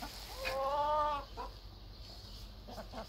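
A single small rooster gives a short, tonal clucking call, fairly close, followed by a quieter rustle and faint clucks against low background hum.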